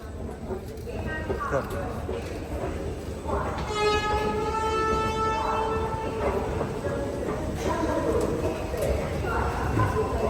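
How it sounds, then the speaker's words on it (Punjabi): A train rumbles through Chandigarh railway station, and a loud horn blares for a few seconds midway, with voices talking over the steady noise. "ਹੁਣ ਦੇਖ ਤਾਂ ਦਿਖਦੀ ਹੈ ਟ੍ਰੇਨ ਨਾ"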